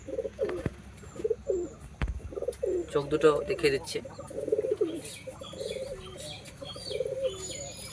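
Tournament-ready Pakistani pigeons coo in low, repeated calls close by while someone talks over them, with a few chirps and handling sounds.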